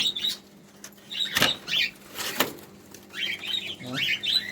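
Cockatiels and budgies flutter inside a cage at a bird seller's, wings flapping in several brief bursts amid faint chirps and a low background hum.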